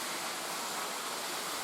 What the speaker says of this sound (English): there's a waterfall up here